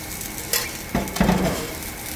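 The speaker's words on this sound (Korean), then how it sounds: "지금부터 이제 무쳐보겠습니다." Mung bean jelly salad with blanched water dropwort and seasoning sauce is being tossed by hand in a bowl, giving soft wet squelches and a few clinks against the dish, close and short with no speech.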